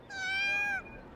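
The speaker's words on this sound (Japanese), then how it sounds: "猫ですね。" A cat meows once in the video game Tokimeki Memorial Girl's Side, a clear, drawn-out tonal call lasting under a second, heard alone against a quiet background.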